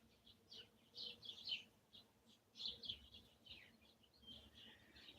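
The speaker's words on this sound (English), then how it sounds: "Looks like there's a little flock of downy woodpeckers." A small flock of downy woodpeckers gives quiet, high chirps in bursts, several calls clustered together and then pausing, faint and somewhat distant over a low background hum.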